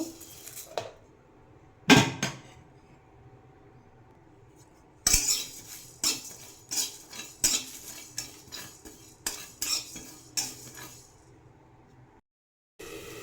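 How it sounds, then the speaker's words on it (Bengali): Dry spices stirred in a hot kadai, a metal spoon scraping and clinking against the pan in sharp, irregular knocks that grow into a rhythmic series, close and fairly quiet, with no talk. "কড়াই গরম হয়ে গেছে এবার মশলাটা ভেজে নেব"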